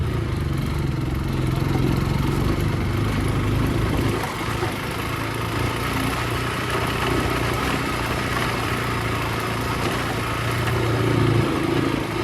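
A scooter and a motorbike carry four riders along a road in the afternoon, their engines giving a steady, close drone with wind rush throughout and no pauses.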